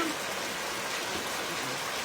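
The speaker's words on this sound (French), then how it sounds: "C'est la pluie ici" Rain falls in a steady, broad hiss that continues evenly through the whole short stretch. It sounds close and fairly strong, with no clear breaks.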